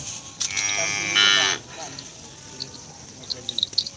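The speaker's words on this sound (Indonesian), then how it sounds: "Ini sapinya guys, bagus-bagus guys." Small racing cattle at a bull race field in Pademawu call out with a loud, drawn-out moo lasting about a second, amid outdoor background noise, with brief sharper sounds before and after.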